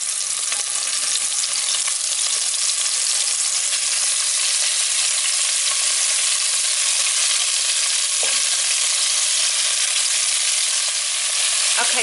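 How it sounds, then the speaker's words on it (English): Beef browning in a hot pot on high heat, producing a loud, continuous sizzle and crackle that holds evenly for several seconds with a few faint knocks beneath. "So just start adding it and then just brown it for like 30 seconds aside or until it's browned."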